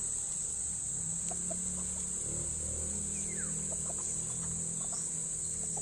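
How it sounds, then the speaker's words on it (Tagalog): Chickens cluck softly now and then over a constant high insect drone, with a low rumbling background throughout. "Ito rin yung ating mga manok."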